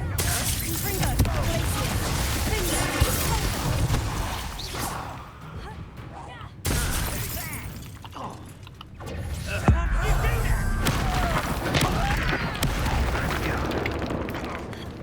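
Confringo explosion spell cast in Hogwarts Legacy, a series of loud booming, crackling blasts with whooshes, sustained and dense, with brief dips between bursts.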